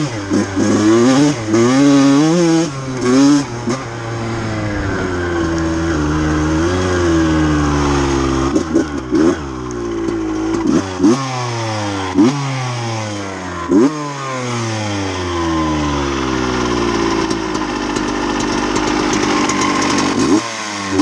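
KTM motorcycle engine revving up and down repeatedly, rising and falling pitches loud and close, with a strange rubbing noise somewhere in the engine.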